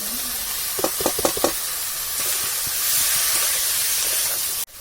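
Boiled figs added to shrimp frying in oil and stirred, with a few quick clattering stirs early on, then a steady close sizzle and hiss ending in a sharp knock.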